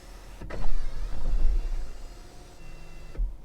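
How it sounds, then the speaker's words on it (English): Electric moonroof privacy panel motor in a 2023 Kia EV6 GT cabin, a steady whirring drive lasting about three seconds, starting with a click and ending in a soft thunk, heard up close with no speech. "including an electronic privacy panel for your moonroof"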